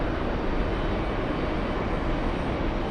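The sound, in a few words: Delta Boeing 767 jet airliner at JFK airport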